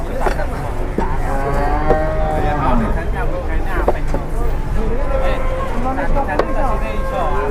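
Jumbo cattle low and moo repeatedly while being loaded onto a truck amid a busy, noisy outdoor scene, with people talking nearby over steady background rumble.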